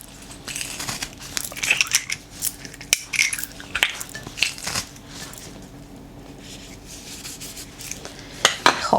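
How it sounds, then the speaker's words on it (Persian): Three garlic cloves are crushed in a metal garlic press in a kitchen, giving intermittent clicks, squeaks and squelching crunches in several short bursts, close by with no talk. "3 تا حب سیر رو با سیر خورد کن، سیر له کن له میکنم و بهش اضافه میکنم"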